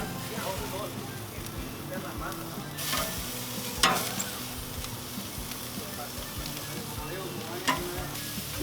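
Chicken tenders sizzle steadily on a Char-Griller Super Pro grill over mesquite wood, a constant close crackle with a few sharper pops and flare-ups.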